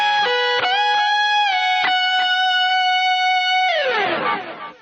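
Lead electric guitar phrase, sustained bent notes and quick picked notes ringing clearly, ending in a descending slide that fades out; played alone with no talking.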